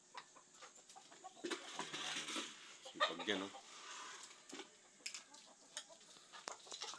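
Backyard chickens in a rural Philippine home cluck and squawk in short, irregular bursts, fairly close, while a person talks quietly nearby.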